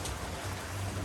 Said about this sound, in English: It's very, very nice to sleep in the rain, to have that sound